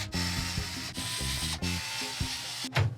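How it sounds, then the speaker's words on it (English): Screws are driven to fasten a PC case fan, producing close, repeated ratcheting clicks from a screwdriver turning in short strokes, broken by a few sharper knocks, with no talk. "then we easily secure these with the 4 included screws"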